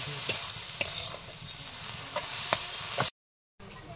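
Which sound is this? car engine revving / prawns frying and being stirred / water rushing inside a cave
prawns frying and being stirred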